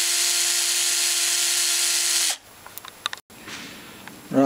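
A power drill whirs steadily at high speed drilling out a broken screw in a Honda GX160 engine block, then stops abruptly, followed by faint scraping and clicks of metal.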